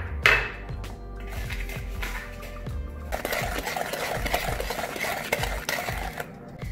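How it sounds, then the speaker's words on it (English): Whisk scraping and clinking in a bowl as granulated sugar and melted butter are mixed into a paste for chocolate brownies, rhythmic quick strokes, fairly faint and close, without speech. "We start by mixing the granulated sugar and the melted butter. And whisking them till they form a paste."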